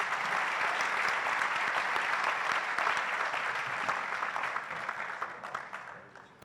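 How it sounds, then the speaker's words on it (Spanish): Audience applause for panelists at a conference on free trade zones, a full sustained round of clapping that holds steady and then fades out near the end. "Por favor, un aplauso para ellos."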